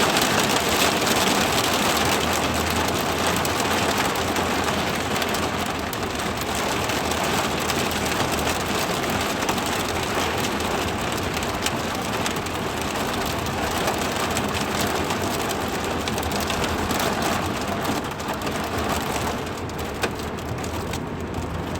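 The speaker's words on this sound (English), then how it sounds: "until this rain slows down" Heavy rain falling outdoors as a steady, dense, loud wash of hiss that never lets up, with no voices over it.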